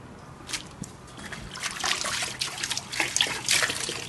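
Warm water trickles and splashes while a dairy cow's udder is washed after calving, with steady dribbling and sloshing close by, louder bursts toward the end, and no talk.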